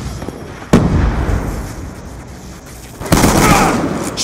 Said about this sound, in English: Sticky going out!